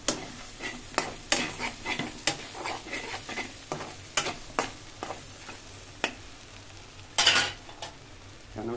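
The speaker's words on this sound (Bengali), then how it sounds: "জিরা দিয়ে এখন এটাকে নেড়ে চেড়ে দেব।" Cumin powder being stirred into a hot, sizzling pan, with a soft continuous sizzle under sharp scraping clicks from a utensil against the pan at irregular intervals, close and fairly quiet, with no talk.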